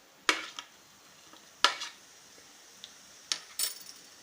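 Whole cumin seeds dropped into two spoonfuls of hot oil in a pan crackle in sharp, sparse pops, four or five distinct bursts against a quiet background with no talk.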